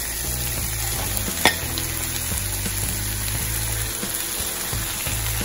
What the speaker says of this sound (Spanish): Y estos se van a cocinar por más o menos 2 minutos, solamente hasta que se pongan rosaditos.